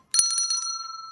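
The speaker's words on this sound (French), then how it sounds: "Ah, les cloches. Haha, les cloches." Bells chime in an online casino slot game during a big win, a bright ringing burst of several quick strikes followed by a sustained tone that slowly fades, with no voices over it.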